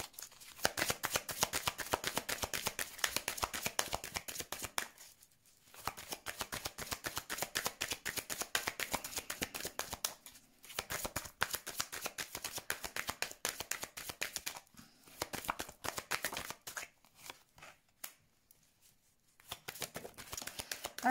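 Lenormand oracle cards are shuffled in rapid, crisp riffling bursts, close and fairly quiet, broken by several short pauses with no talking.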